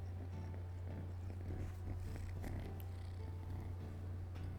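A cat named Crisp purrs right up against the microphone, a loud, continuous low rumble with light shuffling and small movement noises on top, no talking.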